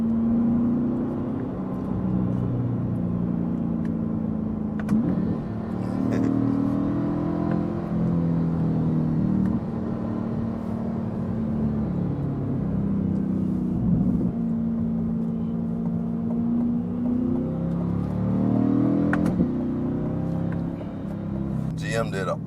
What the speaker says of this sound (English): Still wondering what kind of exhaust that is.